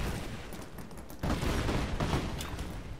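Gunfire in the video game Rise of the Tomb Raider: a dense burst of shots breaks out about a second in and keeps crackling loudly to the end, with fainter shots before it.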